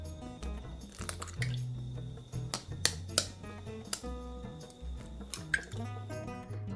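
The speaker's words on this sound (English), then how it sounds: "Start by cracking 2 eggs into a bowl" Two eggs cracked one after another into a bowl for French toast, giving sharp shell clicks, light clinks and wet drips over a soft, steady background music bed.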